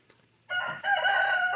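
A rooster crows loudly and close at a chicken roost, one long drawn-out call broken by a short pause. A faint click comes just before it, and there is no talk.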